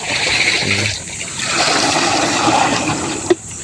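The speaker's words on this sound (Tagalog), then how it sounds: "nilalagyan na ni Kuya ng tubig" Water is poured into a trough for cattle on a farm in Tiaong, Quezon, making a steady rushing splash that runs close and fairly loud for several seconds with a brief knock near the end.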